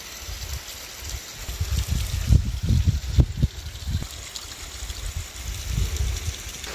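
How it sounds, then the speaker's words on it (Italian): A small warm-spring cascade near Bagno Vignoni in Tuscany spills into pools, with a steady close wash of flowing water and splashing gurgles throughout. "cascatella che arriva direttamente da Bagno Bignoni"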